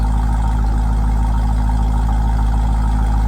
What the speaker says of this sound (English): That's a cold start on the Trackhawk.